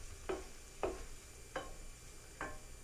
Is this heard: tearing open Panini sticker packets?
no